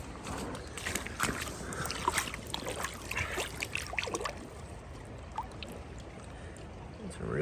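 Creek water splashes and trickles as an ancient Native artifact is rinsed off by hand, with close, irregular sloshing and dribbling that fades to a quieter flow, while a voice is heard at times.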